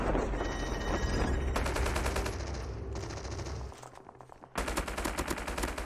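Automatic gunfire in the mobile shooter Call of Duty Mobile, loud rapid bursts of shots with a brief lull before another close, sharp volley.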